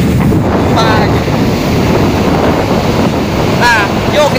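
Sea waves washing onto the shore at Pulau Darmaga, a loud continuous roar of surf mixed with heavy wind buffeting the microphone, with a couple of faint, wavering whistles in the background.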